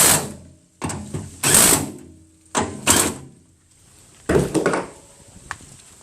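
An impact wrench removes the bolts of a ladder roof rack on a Ford E350 Super Duty cargo van, firing in four or five loud, short rattling bursts separated by brief pauses.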